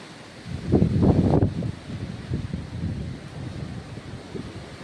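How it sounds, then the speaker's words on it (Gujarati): Steady wind blowing outdoors during a storm with rain and lightning, with a stronger gusting surge near the start and broadband rumbling buffeting against the microphone throughout. "જો અવાજ આવે પવનનો"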